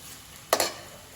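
Finely chopped onion drops into a hot pan to sauté, one sudden loud burst of sizzling that rises and fades within half a second over a low steady hiss.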